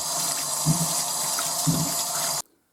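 Cold tap water runs steadily over noodles and splashes into a sink with a couple of soft knocks, then cuts off abruptly.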